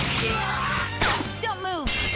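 A frozen enemy shatters with a bright crash and impact in Persona 5 Royal, under character voices and game music that continue throughout, with further hits following the break.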